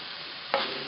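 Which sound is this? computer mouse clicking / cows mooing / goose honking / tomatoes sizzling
tomatoes sizzling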